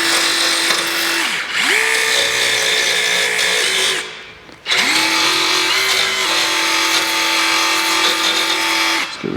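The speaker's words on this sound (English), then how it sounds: "I'm going to just go ahead and take my little belt sander dealie and get in here a little bit" A small belt sander whines loud and close, grinding on the front suspension of a Tri-Five car in two long passes that are split by a brief spin-down and restart.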